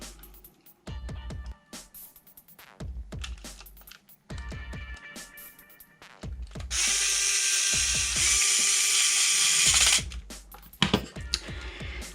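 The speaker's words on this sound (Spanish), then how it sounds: "colocamos los tornillos" Screws driven back into a PS5 DualSense controller shell with a small powered driver: repeated short bursts of whirring, ratcheting mechanism, then a longer steady buzz near the end, close and fairly loud with no talk.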